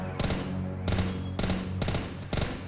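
Gunfire sound effects from a cheap Steam video game, with about five loud, broad bursts, each lasting a fraction of a second, spaced roughly evenly over a low steady hum.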